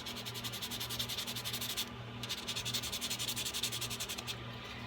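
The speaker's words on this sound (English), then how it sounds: "Sand that off a little bit," Steady scratchy sanding of a balled end on jewelry wire, a continuous rhythmic rasp of quick back-and-forth strokes close by with brief pauses.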